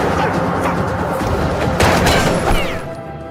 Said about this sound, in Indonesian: terjadilah suara tembakan